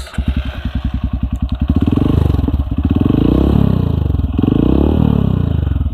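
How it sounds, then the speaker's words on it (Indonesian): A Honda CRF 150L dirt bike engine starts with rapid popping pulses, then settles into a loud, steady rumbling idle with slight revs, close by. "Buat kalian yang kepo suaranya seperti apa, kita nyalakan."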